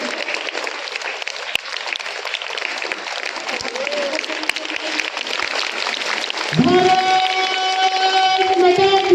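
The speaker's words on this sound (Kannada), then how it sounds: "ಜೋರಾದ ಚಪ್ಪಾಳೆ." A crowd at a school Republic Day flag hoisting claps loudly and steadily, then voices break into a tuneful chant near the end over the continuing applause.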